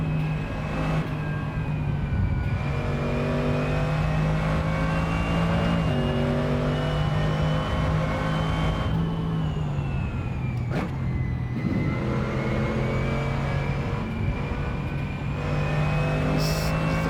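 A 2020 Mercedes-AMG driven on the Deutschlandring circuit, its engine droning steadily up close, pitch rising and falling through gear changes and corners with no talk over it.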